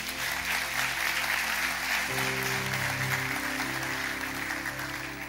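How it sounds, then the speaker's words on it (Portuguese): A church congregation at a Sunday morning service applauds steadily throughout, a dense sustained wash of clapping with a low sung or spoken tone rising beneath it partway through. "Dê o melhor aplauso que você pode dar a Deus."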